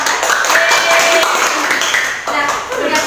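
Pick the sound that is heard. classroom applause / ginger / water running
classroom applause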